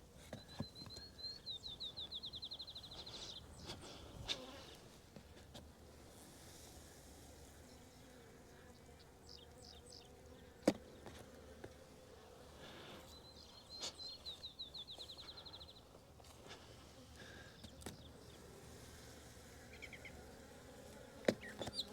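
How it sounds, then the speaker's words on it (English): Steady buzzing of many bees close by in a packed hive box, a continuous drone with brief knocks and rustles, and a few faint bird chirps in the background. "Packed full of bees."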